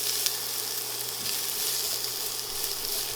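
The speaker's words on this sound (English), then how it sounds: "Start sauteing those, and my chopped onion." Garlic and chopped white onion sauté in oil in a pot, giving a steady soft sizzle with no talking.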